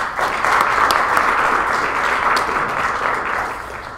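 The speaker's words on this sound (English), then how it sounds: "shall we call one last round of applause for the speaker." A conference audience at EXAG 2017 gives a steady round of applause, dense clapping that holds for several seconds and fades slightly toward the end.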